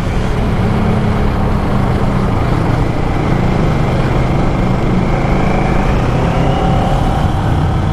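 Kawasaki ER-6n 2012 motorcycle engine on a test ride, a steady loud drone with rushing wind and road noise throughout, the engine note rising slightly as it pulls through an overtake.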